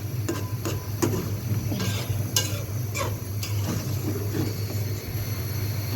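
A spatula stirs egg bhuna curry in a pan, making a string of scraping, clattering strokes at an uneven rhythm over a steady low hum. The stirring is close and moderately loud, and no one talks.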